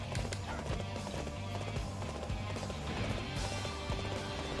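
Horse hooves gallop in the Dynasty Warriors 8 video game, a steady run of clip-clop hoofbeats with a whinny, set loud against continuous battle noise and music.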